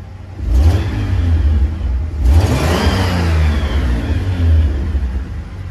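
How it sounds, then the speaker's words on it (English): A 1985 Toyota Supra engine, warmed up, revs twice in close succession, each burst climbing and falling back to a deep, grumbling idle; loud and close with no talking. "So for 85, Supra still sounds pretty good."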